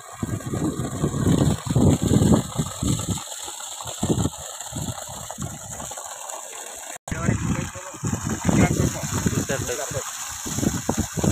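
Water gushes at full flow from a farm water pipe, a steady rushing roar with a mechanical pumping rattle beneath it, while people talk over it throughout.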